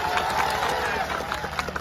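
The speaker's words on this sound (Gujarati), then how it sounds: "એમની માટે જોરદાર તાળીઓ થઈ જાય" A crowd at a public gathering claps and cheers for police officers. Dense, steady applause with murmuring voices lasts a brief moment, close and continuous.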